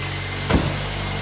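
A Jeep's engine turns over briefly, then settles into a low, steady idle close by.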